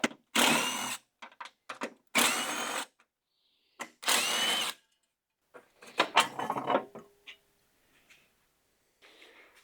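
Power drill spinning out 10 mm fender bolts on a 1999-2009 Chevy GMT-800 Silverado, several sharp whining bursts separated by silence, close and loud, with clinks of parts between.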